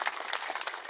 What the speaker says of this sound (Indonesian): Kita berikan tepuk tangan Bapak Ibu.